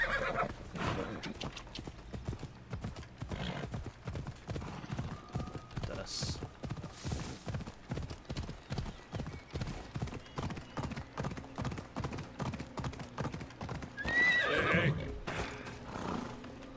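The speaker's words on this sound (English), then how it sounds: "let's call my buddy. My dark horse." A dark horse in the Assassin's Creed Odyssey video game trots with steady, close clip-clop hoofbeats across the whole stretch, and a loud whinny rises near the end.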